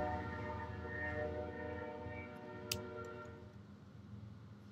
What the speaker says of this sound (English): there's a train in the background